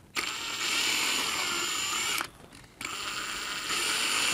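A drill press motor whirs steadily as it bores guitar parts during assembly, cuts out for a moment, then spins back up and keeps running.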